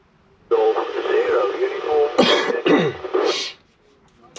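Radio receiver hiss and noisy static from a portable ham transceiver on 145.350 MHz in the Peak District, steady for about three seconds with a few bursts, then it cuts to near silence.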